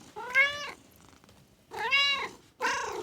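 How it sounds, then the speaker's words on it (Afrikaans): A cat meows three times, drawn-out and tonal, with short gaps between calls and quiet background. "Die kat miau."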